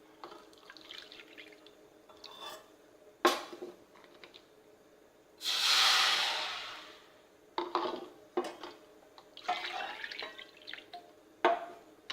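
Water pours into a cooking pan for semolina in one sustained splashing burst lasting a few seconds, framed by scattered clinks and drips of kitchen utensils, with no talk.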